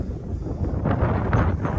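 Steady wind buffeting the microphone, a low rumbling roar that swells slightly in gusts, with no voices.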